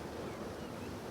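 Sea waves break at the foot of a cliff in a steady, rushing roar of surf with no pauses and no voices.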